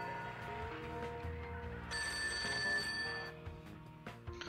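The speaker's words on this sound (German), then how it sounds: "Ah, das Telefon klingelt schon wieder." In the video game Serial Cleaner, a telephone rings with a bright, bell-like tone over quiet game music and ambience, then stops after a couple of seconds, followed by a few soft clicks.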